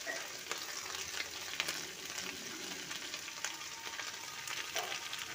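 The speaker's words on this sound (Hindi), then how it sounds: "ये हमने लहसुन कूट के डाले हैं, फ्राई हो जाता है, सब इकट्ठा फ्राई करेंगे।" Crushed garlic, slit green chilies and capsicum fry together in a pan with a soft, steady sizzle and occasional light stirring clicks and pops.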